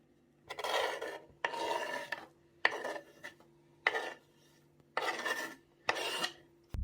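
Six bursts of gritty rasping and grinding, each lasting under a second with short pauses between, as a pestle crushes chopped garlic, herbs, salt and red pepper in a mortar, close and fairly loud.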